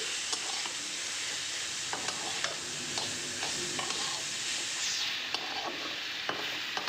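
Lentil dumplings (bori) fry with fenugreek greens in a pan, making a steady hiss of sizzling oil with light scraping strokes and small ticks close by.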